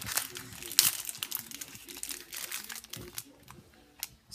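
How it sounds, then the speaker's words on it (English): Crinkly wrapper being pulled open around a wrapped chocolate, a run of close, sharp crackles and rustles with a few louder snaps, under light background noise. "I need to unwrap it first."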